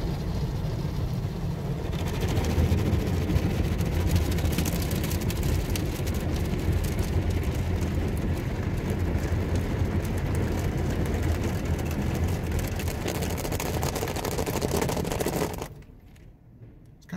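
An automatic car wash runs with a loud, steady roar of spraying water and machinery around the car, holding constant for most of the clip before cutting out abruptly near the end.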